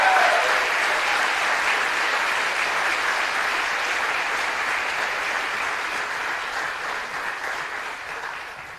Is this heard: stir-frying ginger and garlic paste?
no